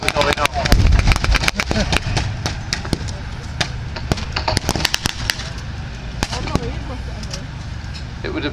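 Artillery and gun rounds fire in quick irregular bursts at a wartime battle reenactment, sharp cracks and thumps near and far. A voice talks under the firing through most of it.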